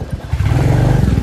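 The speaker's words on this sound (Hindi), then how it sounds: "यहाँ पे करते हैं अपनी बाइक को पार्क।" A motorcycle rumbles loudly and close as it is ridden into a parking spot at Govt. Degree College Bemina, a brief, steady, throbbing low engine note.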